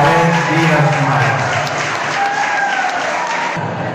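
Audience applause at a pageant in Camasca, a queen election, steady and fairly loud clapping filling the hall for a contestant, with a bit of crowd noise and a brief voice underneath.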